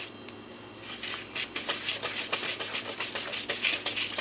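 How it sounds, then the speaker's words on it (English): Baking powder, salt and flour being whisked together in a bowl for a lingonberry crumb cake, a steady scratchy rubbing with quick repeated strokes, close and moderately loud, with no talking. "I'm going to whisk this together to combine it."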